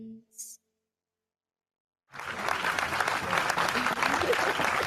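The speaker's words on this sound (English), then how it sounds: "I need to do a clap." Applause breaks out after a sung performance on a talk show, beginning after a brief voice and a pause of silence, then holding steady and fairly loud as a dense, continuous wash of clapping.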